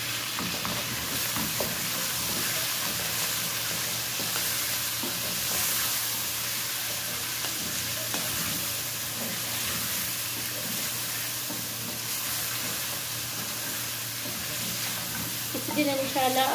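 Minced meat frying with ginger garlic paste and tomatoes in a pan, a continuous close sizzle with stirring scrapes running for several seconds, no talking.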